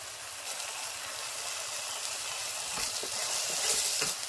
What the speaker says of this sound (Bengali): এগুলো দিয়ে এবার ভালো করে মশলাটাকে কষে নেব।